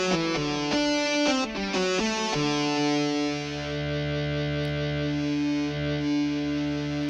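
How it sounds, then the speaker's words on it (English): Distorted solo electric guitar voice played from a Novation SL MkII controller: a sustained, harmonically rich lead line with a few quick opening notes, then long held tones, steady and loud with no talking. "solo distortion guitar"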